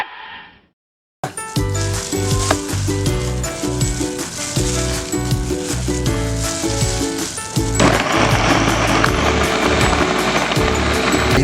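Carrots and shrimp tumble into a hot pan for molo soup, setting off a loud, steady sizzle that runs unbroken after a short quiet start and swells slightly partway through.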